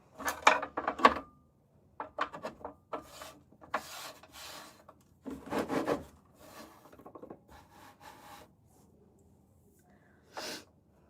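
A pottery piece being trimmed on a spinning wheel, with bursts of rasping, scraping tool-on-clay sounds in irregular clusters, fairly close and moderately loud, separated by brief quieter gaps.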